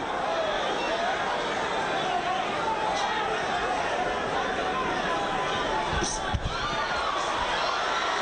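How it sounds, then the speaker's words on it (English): A boxing arena crowd at the Roy Jones Jr vs Montell Griffin fight, with dense, steady chatter and cheering from many voices filling the hall throughout, with a brief louder burst near the end. "More Griffin cheering"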